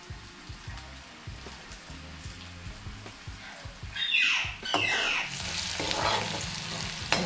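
Leafy greens such as spinach and red amaranth hit hot oil in a kadhai, starting as a low steady sizzle and then flaring into a loud, bright hiss as the greens go in, with stirring scrapes under it.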